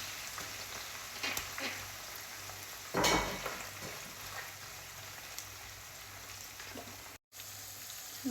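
Onions and shrimp frying in a hot pan, a steady close sizzle with a sharp hiss burst as ingredients hit the oil, plus light stirring scrapes.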